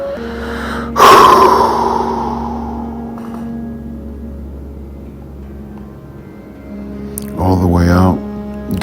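A deep breath is let out completely in a loud, sharp exhale close to the microphone that trails off slowly, followed later by another strong breath with a voiced, gasping quality over a low steady hum.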